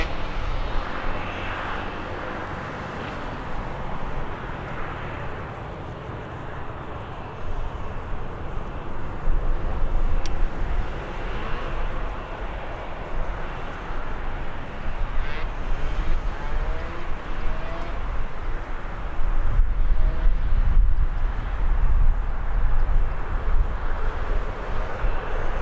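A KLM passenger jet arriving at Birmingham airport, heard as a loud continuous engine roar that builds slightly toward the end, with broadband rumble and no talking.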